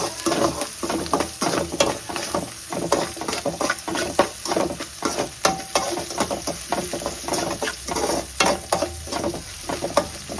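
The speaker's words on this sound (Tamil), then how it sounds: "உப்பு ஆட் பண்ணி அதையும் போட்டு நல்லா வதக்கிக்கலாம்." Onions sauté with salt in a pan, giving a steady close sizzle broken by frequent rhythmic scraping and stirring strokes that run throughout at a fairly loud level.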